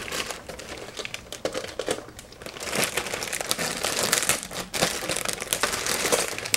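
A plastic bag crinkles and rustles steadily for several seconds as an IcyDock FlexCage SATA backplane module is worked out of it, close and fairly loud, with bursts of sharper crackling and no talk.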